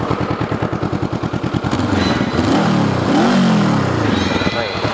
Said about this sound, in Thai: นี่เสียงสองสูบครับ